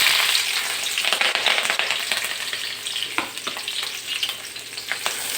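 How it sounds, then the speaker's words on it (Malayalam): Chopped onion and green chilli crackle and sizzle in hot oil in a pan, a loud bright frying hiss with stirring clatter, easing slightly midway before picking up again. "അപ്പോൾ നമുക്ക് ആദ്യം ഇതിലേക്ക് സബോളയും പച്ചമുളകും അരിഞ്ഞത് ഇട്ട് കൊടുക്കാം."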